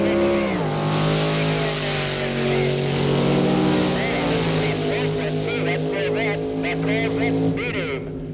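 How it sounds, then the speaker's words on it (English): Early-1960s Corvette drag racing against a C-Gas supercharged coupe at the Winternationals, a loud sustained engine roar with rising and falling pitch throughout, with a voice talking over it. "The Corvette beating Pittman and Edwards C-Gas Supercharged Coupe."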